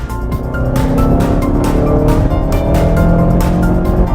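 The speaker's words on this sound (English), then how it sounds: "I'm going to go ahead and mash it. Here we go. Feeling good. Engine sounds great." A Mazda3 Grand Touring engine roars loudly and steadily under hard acceleration, holding a strong revving drone with rising pitch throughout, close and continuous with no voices.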